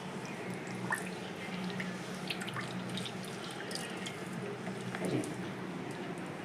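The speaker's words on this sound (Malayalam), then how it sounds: "കരിവേപ്പില നമുക്കിതൊന്ന് കഴുകാം." Curry leaves being washed by hand in water at a kitchen sink, soft close splashing, dripping and squishing that patters on irregularly at moderate volume without talking.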